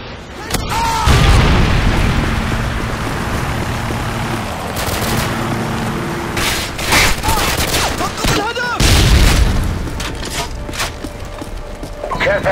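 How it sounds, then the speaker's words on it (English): Predator missile and gunfire in Call of Duty MW2 team deathmatch: heavy booms and bursts of rapid shots, close and loud, with explosions at intervals and announcer-style voice lines between. "Friendly Predator missile inbound"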